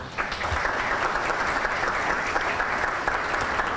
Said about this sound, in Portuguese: Pedir uma salva de palmas para o Paulo.